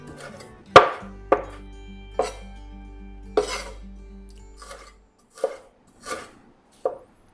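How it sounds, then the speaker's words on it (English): A knife chops spring onion and other wonton filling ingredients on a cutting board in a series of sharp, close, distinct strikes at an uneven pace, with pauses between them. "Now that we have it all cut, we just give it a fine chop."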